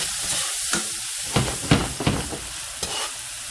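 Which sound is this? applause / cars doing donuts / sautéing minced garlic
sautéing minced garlic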